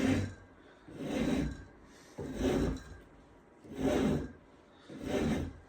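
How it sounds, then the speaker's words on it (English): A wooden muzzleloader stock being scraped by hand to remove material, five long, even rasping strokes at a steady rhythm, close and moderately loud. "But you want to take long contouring scrapes"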